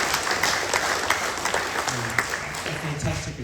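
An audience claps in a round of applause at a community event with the Treasurer, a dense steady patter of many hands lasting a few seconds, with voices mixed in beneath it.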